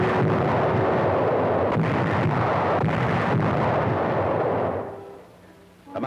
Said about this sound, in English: Overhead, the Luftwaffe is cooperating, peeling off to drop countless lethal charges.